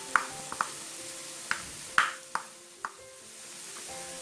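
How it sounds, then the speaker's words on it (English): Thinly sliced garlic cloves hitting a hot pan with mushrooms and onions, sizzling steadily while a utensil stirs them, with several sharp scraping clinks and pops standing out over the low frying hiss. "I'm going to go in with some cloves of sliced garlic,"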